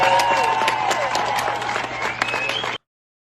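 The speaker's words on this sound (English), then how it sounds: "He is now taking in his applause" A theatre audience applauds and cheers a performer taking a bow, a dense, loud wash of many hands clapping with occasional shouts, sustained evenly for a few seconds before cutting off abruptly.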